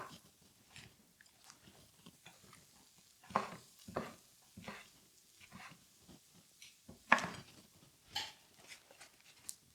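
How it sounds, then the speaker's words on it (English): Onion, garlic and spices cook in a pan, heard as soft, scattered crackles and small pops with occasional louder ticks, close and low in level over roughly ten seconds, without talk. "can hear the onion and garlic and the spices cooking away"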